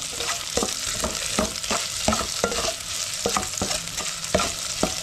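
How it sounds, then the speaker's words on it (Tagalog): Onion and garlic frying in a pan, heard up close as a steady hiss broken by regular sharp spatula taps and scrapes from stirring, with no talking. "Nilagyan natin si sibuyas na."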